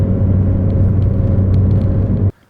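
A modified 2012 MINI Cooper JCW engine running with a steady, loud, close rumble and a slight whir for about two seconds before stopping abruptly.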